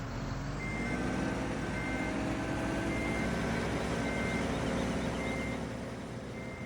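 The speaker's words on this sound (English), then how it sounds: "I can hear that engine roar, and it's working so hard." A heavy Ford pickup truck plowing snow in Farming Simulator 17 drones with a steady, loud engine roar, while a repeating reversing beep pulses over the top throughout.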